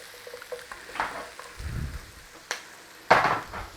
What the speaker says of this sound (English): Back on the flame, touch of oil if you need it, garlic onions. Little stir fry on those.